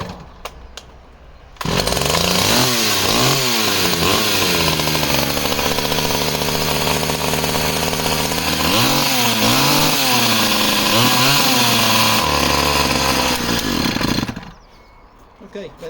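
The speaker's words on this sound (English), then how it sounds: "let's see if she'll start today again" Stihl 009 top-handle chainsaw, a rough-running project saw on choke, catches after a brief rustle and runs loud and near for about twelve seconds. Its two-stroke engine surges and revs up and down repeatedly before it cuts out abruptly into quiet.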